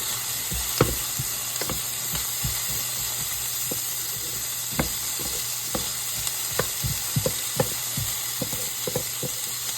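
A mirepoix of onion, carrot and celery fries in a pan with a steady close sizzle and hiss, broken by occasional sharp crackles and pops, with no voices.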